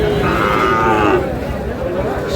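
A Sahiwal bull at a cattle market gives one drawn-out low moo lasting about a second, close by over the steady murmur of the market crowd.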